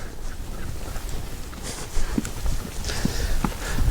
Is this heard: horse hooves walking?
yes